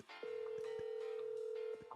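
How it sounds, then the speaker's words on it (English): A telephone gives a steady electronic ring or dial tone that holds for about a second and a half, framed by short clicks and beeps, clear and alone. "Pick up the phone."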